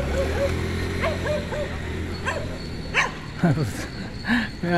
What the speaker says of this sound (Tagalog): May aso nga habol.